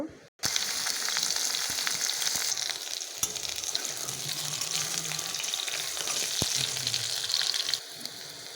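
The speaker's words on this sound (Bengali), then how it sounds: "প্রথমে আমি সবজিগুলো ভেজে নেব" Potatoes, pointed gourd, jackfruit seeds and aubergine frying in hot oil in a pan, a steady close sizzle with occasional stirring scrapes and faint clinks, running continuously with no talk.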